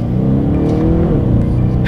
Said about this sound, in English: Let's test out the paddle shifters.